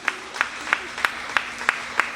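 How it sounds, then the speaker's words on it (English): Applause for student interns at an end-of-year ceremony comes through as seven crisp, evenly spaced claps in a steady rhythm, fairly close, over a low background hum. "Let's give them a round of applause"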